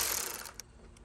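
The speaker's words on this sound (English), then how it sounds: "we're gonna grab our 11mm. And we're gonna take this off" An 11mm ratchet loosening a tail light nut on a 2010–2014 Ford Mustang, producing a brief close burst of quick clicking that fades within about a second.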